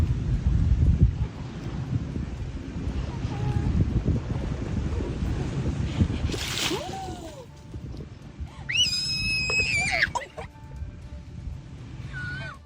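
Wind buffeting the microphone on a beach with surf rolling behind, loud and rough at first, then easing, while a horse-like whinnying cry and a high squealing voice cut in near the end.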